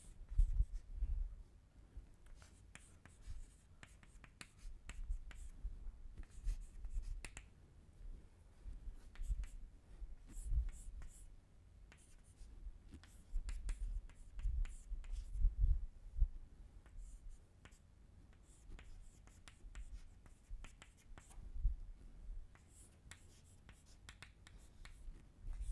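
Hand writing during a lecture on jet and rocket propulsion, a faint, continuous scratch of quick irregular strokes lasting about twenty-five seconds, with no talking.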